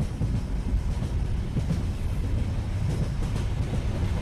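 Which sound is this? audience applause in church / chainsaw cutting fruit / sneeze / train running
train running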